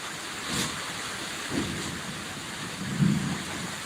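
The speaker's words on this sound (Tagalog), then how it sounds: "Malakas ang ulan." Heavy rain pours steadily on an afternoon in the Bicol region, with low rumbles of thunder rolling in at intervals, close and loud over a constant wash of rainfall.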